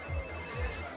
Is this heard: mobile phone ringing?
yes